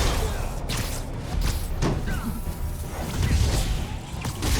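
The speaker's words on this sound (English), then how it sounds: "Just got hit by explosion." Explosion in the video game Spider-Man Remastered, a burst of crashing and thudding impacts with whooshes and scattered debris-like hits over a rumbling, noisy background, with faint speech underneath.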